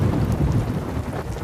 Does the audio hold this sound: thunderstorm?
yes